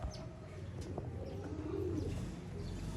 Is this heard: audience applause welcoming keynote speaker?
no